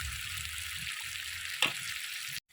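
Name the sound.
fish frying with spices in pan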